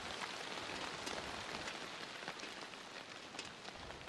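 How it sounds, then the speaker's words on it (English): Steady rain from the video game Warframe pours in a dense, even hiss with scattered drop ticks, fairly loud and close, and no one speaks over it. "because you can hear the rain"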